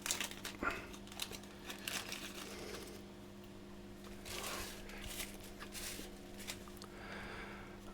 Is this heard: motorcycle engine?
no